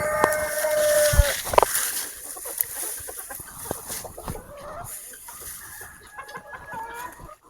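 Brahma chickens, a few hens and cocks kept in a quarantine pen on a farm, cluck and call close by in repeated bursts, loudest early on and then fading to softer scattered clucks.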